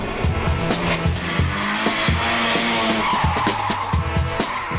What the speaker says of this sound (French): Est-ce qu'on va drifter ça?